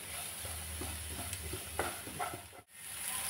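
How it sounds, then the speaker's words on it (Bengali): Vegetables with tomato, grated ginger, salt and turmeric sizzle in a pan under steady stirring, the close frying hiss dotted with soft scrapes and a brief dip near the end. "সব সবজিগুলো ভালো করে একটু ভেজে নেব।"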